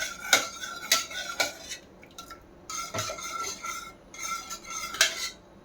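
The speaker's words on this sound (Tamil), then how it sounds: "இதை நல்லா அப்படியே மசிச்சு விட்டு நம்ம அப்படியே சேர்த்துக்கிடுவோம்." A metal utensil scrapes and clinks against the inside of a pressure cooker, mashing cooked lentils in short repeated strokes, with brief quiet pauses between bursts.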